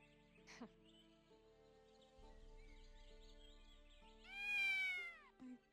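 A cat meows inside a roleplay video game, a rising and falling call near the end over a quiet ambient game backdrop, followed by a short extra sound.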